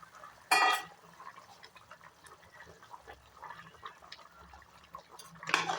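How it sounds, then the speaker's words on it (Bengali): Boiled water poured into a pot of chicken curry with potatoes, a short loud splashing gush near the start, quieter bubbling and trickling after, and a second burst of splashing at the end. "একেবারেই ফুটানো জল দিয়েছি, পুরো জলটাই দিয়ে দিলাম"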